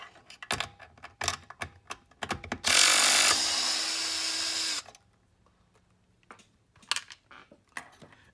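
A power screwdriver whirs for about two seconds, backing out screws from the cord storage cover of a Kodak 760H slide projector, surrounded by sharp clicks and clatter of parts being handled.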